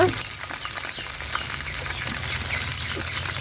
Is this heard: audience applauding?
no